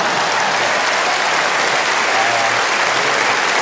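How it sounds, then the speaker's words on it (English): Comedy festival audience gives a round of applause for the next debate speaker, loud continuous clapping from a packed room, sustained and even with no voices over it. "Could I also get a round of applause for our next speaker"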